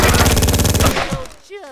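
Rapid automatic gunfire rattles loudly in a Made Man: Confessions of the Family Blood shootout, a dense burst lasting nearly a second before cutting off, followed by faint trailing noise and a brief voice.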